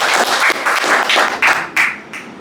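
An audience claps loudly in appreciation of health workers and doctors, a dense continuous round of applause with a few sharper bursts, fading slightly toward the end, with no talking.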